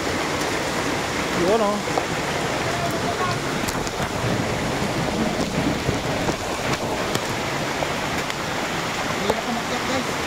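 Steady broadband roar of Sangbay Falls rushing continuously close by, loud and unbroken, with brief speech and exclamations over it.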